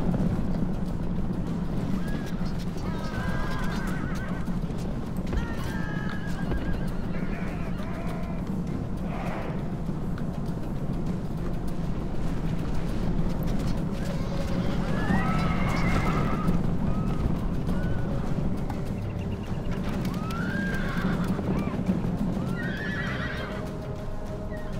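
Horses neigh and whinny amid clopping hooves in a video game battle with mounted horse archers, a steady dense din of calls rising over continuous rumbling background noise, with honking and goose-like cries mixed in.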